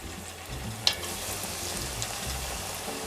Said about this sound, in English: And then continue frying in small batches.